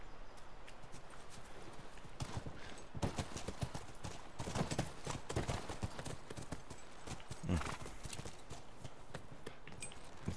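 Horses in The Last of Us walk with steady clip-clopping hooves, close and moderately loud, with a brief whinny partway through against low ambient noise.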